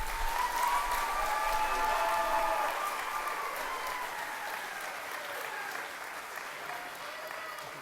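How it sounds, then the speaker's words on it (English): Sustained applause from a banquet audience at an FFA awards banquet, dense steady clapping that starts strong and gradually tapers, with a few voices mixed in, moderately distant in a large room. "the largest applause we've heard thus far"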